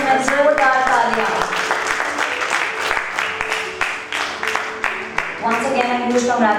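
Steady audience applause at an awards ceremony, loud and continuous, with music running underneath.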